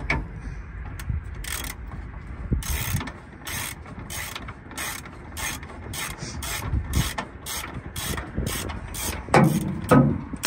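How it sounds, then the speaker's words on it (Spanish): A wrench ratchets a bolt on the rear shock absorber of a 2006 Ford F-150, giving repeated sharp clicking bursts in an irregular rhythm, close and clear, with no talk. "Con la llave está dando vuelta"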